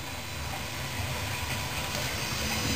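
A steady mechanical whir with a constant hiss from an old Quantum Fireball hard drive spinning inside a 1998 computer, droning evenly without pause and no voices.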